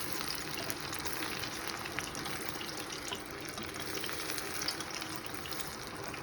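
Aubergine frying in oil in a small pot while being stirred, a steady loud sizzle and bubbling hiss throughout, close up, with no talking.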